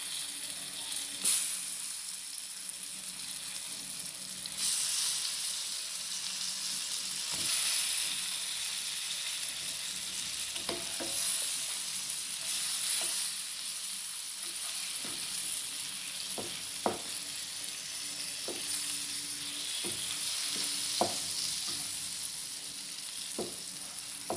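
Cooked squid sizzling and frying in a pan with garam masala, a steady broadband hiss throughout with occasional sharper crackles and stirring clicks, close and fairly loud, with no talking.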